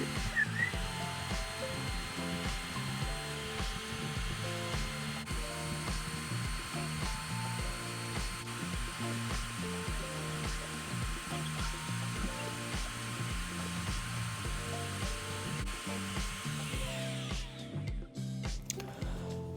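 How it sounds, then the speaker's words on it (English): A power tool sands down an apple wood slingshot blank, giving a continuous whining drone with a steady pitch that carries on without break, moderately loud and close. "I'm going to start sanding it away."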